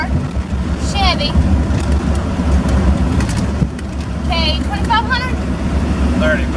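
A 1994 Chevy K2500 truck with a 5.7 engine rolls down the road, heard from inside as a heavy, constant low rumble, with faint bird chirps on top.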